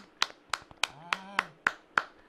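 A small studio audience at a televised Korean amateur singing contest claps in sparse, evenly spaced sharp claps, roughly three per second, fairly close, with a brief voice sounding partway through.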